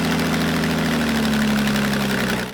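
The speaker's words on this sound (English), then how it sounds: "shredder that is powered by a 1970s Chevy engine" A loud, steady engine roar from an agave shredder powered by a 1970s Chevy engine at a tequila distillery drones continuously with a rough mechanical rattle, close by and unbroken throughout.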